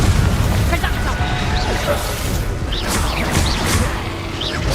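Confringo blast spells in Hogwarts Legacy gameplay, with dense, loud booming bursts and crackling impacts over a constant rumble of combat sound, mixed with game voices and effects.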